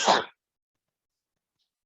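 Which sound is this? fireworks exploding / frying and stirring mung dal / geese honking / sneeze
sneeze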